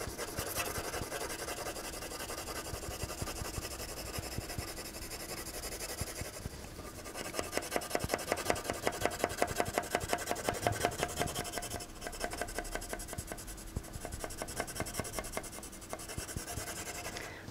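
A drawing tool rubs and scratches across paper while tone is shaded in, with steady close strokes that quicken into rhythmic rapid hatching in the middle and then ease off again.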